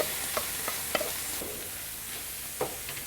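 Meat frying in melted beef tail fat for tantuni gives a continuous close hiss, with a few light clinks and scrapes from stirring scattered through it and no voices.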